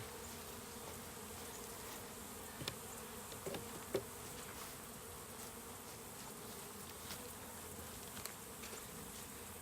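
Honeybees from a swarm being hived hum around a hive box, a soft, constant buzzing drone with a few faint clicks and knocks, fairly quiet and without speech.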